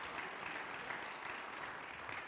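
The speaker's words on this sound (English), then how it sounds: "Give the Lord a hand clap." A church congregation claps together, a steady wash of hand clapping that fills the whole short stretch at an even, moderate level, with no voices standing out.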